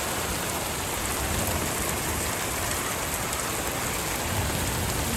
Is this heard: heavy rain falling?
yes